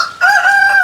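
A rooster crows once at a village home where hens are kept, a single loud, sustained call lasting under a second with no talk over it.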